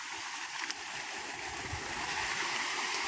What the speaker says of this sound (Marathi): खळखळ वाहणार हे झुरं